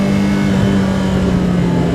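Steady, loud engine drone from a 1986 BMW M3 E30 being driven hard at high revs, a continuous mid-pitched roar with a strong sustained tone and no talk over it.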